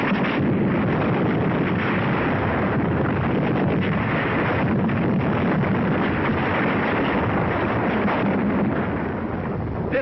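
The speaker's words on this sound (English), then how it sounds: "Enemy snipers machine gun our infantry positions." Rapid continuous machine gun fire crackles across a WW2 North Africa battlefield, a dense, loud, unbroken rattle of shots from old, band-limited wartime film audio.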